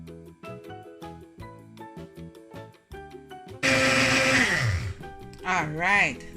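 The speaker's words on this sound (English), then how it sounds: "Now we're gonna blend." A blender whirs loudly as it blends a beetroot and coconut smoothie, starting abruptly after a stretch of tinkling music and running in a sustained roar with a second short burst at the end, while a voice talks.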